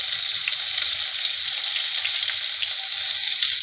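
Chopped onion dropped into hot mustard oil with cumin seeds sizzles loudly and steadily in a pan, a close, continuous hiss with light crackles.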